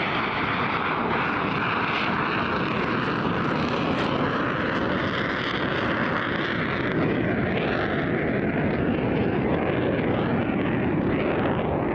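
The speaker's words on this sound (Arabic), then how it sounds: "يقوم الطيار الآن بعزف طائرته بالطيران بسرعات منخفضة." JF-17 Thunder fighter jet flying slowly overhead at an air display: a loud, continuous roaring engine drone that holds steady throughout, with no voices over it.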